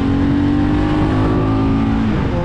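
A vehicle overtaking on a road in Boudha, Nepal: a loud, close engine drone holds steady and then dips slightly in pitch toward the end, with no voices.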